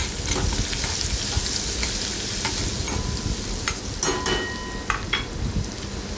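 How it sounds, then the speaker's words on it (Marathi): Crushed ginger and garlic with a pinch of asafoetida sautéing in hot oil for a green bean stir-fry, a steady crackling sizzle close up with scattered spatula clinks and scrapes against the pan. "आता हे आलं लसूण आपण ठेचून घेतलेलं आहे ते आधी घालायचं आणि व्यवस्थित तेलामध्ये ते परतून घ्यायचं आहे आधी।"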